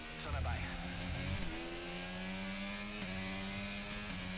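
An F1 car in the racing game F1 23 accelerates with a steady, rising engine whine and gear-change steps, running continuously at moderate loudness without a break.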